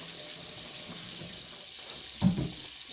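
Running tap water hisses steadily in a sink, with a brief splash as hands move under the stream near the end.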